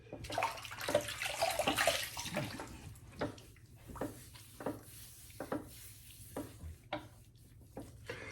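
Water splashes in a sink with soapy runoff as a shaving brush soaks before a straight razor shave, a burst of running water at first, then scattered soft splashes and clinks, no talking.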